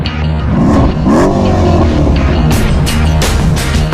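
A Mercedes-AMG 5.5-litre biturbo V8 with direct injection revs loudly and continuously, its pitch climbing and falling through several surges with no talking over it.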